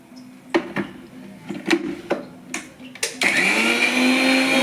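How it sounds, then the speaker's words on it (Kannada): A mixie grinder churns coconut chutney: a few short pulsed bursts, then a steady, loud whirring grind that runs on without pause. "ಈಗ ಇದು ಮಿಕ್ಸಿ ಮಾಡ್ಕೋತೀನಿ"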